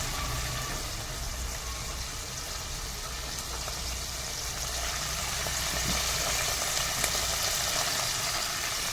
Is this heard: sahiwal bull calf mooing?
no